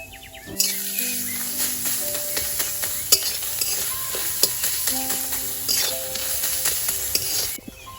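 Chopped onion and garlic frying in a pan as the base of a tomato sauce for homemade pizza, giving a steady bright sizzle with spoon stirring, scraping and clinks against the pan throughout.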